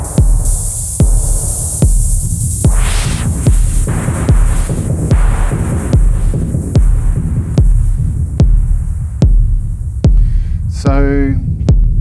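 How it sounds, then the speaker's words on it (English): Kick drum from a Eurorack modular synth sequenced in a Euclidean pattern, playing deep, evenly spaced thumps about once a second over a constant hum, with a brief high chirping sweep near the end. "let's go through each of the different sounds, and we can start with the kick"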